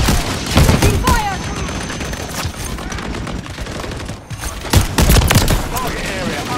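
Gunfire in the video game Call of Duty Modern Warfare III, loud bursts and rapid volleys of shots in irregular clusters, with in-game voices calling out between the shots.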